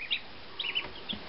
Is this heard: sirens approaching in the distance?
no